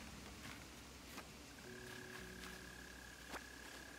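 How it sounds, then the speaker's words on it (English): Frog croaking in the Animal Crossing New Horizons video game, a low, quiet repeating call with a sustained tone, faint and steady over soft ambient game background with no talking. "Yeah, it seems like this noise is getting louder. It's like a frog noise."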